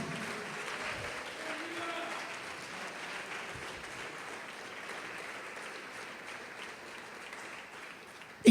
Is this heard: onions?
no